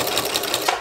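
Home sewing machine running a steady, rapid mechanical stitching rhythm as it sews a one-inch seam along the edge of a two-layer fabric baby blanket, close and continuous throughout.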